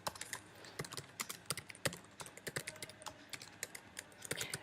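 Code being typed on a computer keyboard, a quick, irregular run of soft, close key clicks with brief pauses between bursts, quiet and with no speech.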